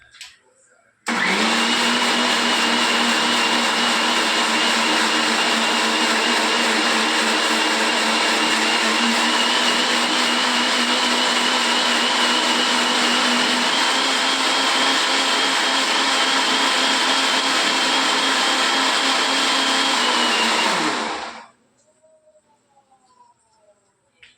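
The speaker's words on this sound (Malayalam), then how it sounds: "ഞാൻ ഈ തേങ്ങ അരച്ച് വെക്കണം" An electric mixer grinder whirs steadily as it grinds coconut into a paste for curry, a loud, continuous motor roar running for about twenty seconds before it abruptly switches off.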